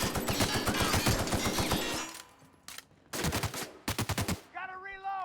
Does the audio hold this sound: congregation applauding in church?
no